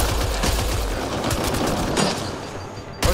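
Gunfire rains down on the player in Mass Effect Andromeda, a dense, loud fusillade of rapid shots and impacts, continuous and close, with a sharp burst at the end.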